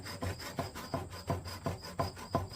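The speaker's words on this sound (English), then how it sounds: "We're going to cut that using that same saw that we cut the pipe with." A hand saw cuts a string notch into PVC pipe, making steady rhythmic rasping strokes about three per second, close up and moderately quiet, with no talking.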